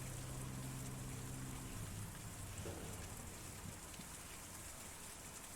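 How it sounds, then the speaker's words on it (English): Steady rain falls on a rooftop in the video game Kentucky Route Zero, a dense continuous hiss with a faint low hum beneath it, unbroken throughout. "So now that we're on the rooftop, it's raining."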